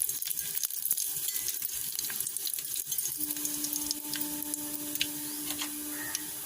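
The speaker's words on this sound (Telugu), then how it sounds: "ఇప్పుడు పోపు గింజలు వేసుకుందాం." Mustard and cumin tempering seeds crackle and sizzle in hot oil in a pan on the stove, a steady near frying hiss with scattered pops and ticks, joined partway by a faint steady hum.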